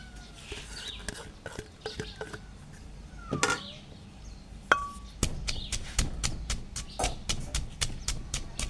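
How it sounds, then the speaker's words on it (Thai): Green mango is pounded in a mortar with a pestle: scattered thuds at first, then a steady run of loud, rhythmic thumps close by, with no talking. "บักม่วงลงไปต่ำก่อนค่ะ"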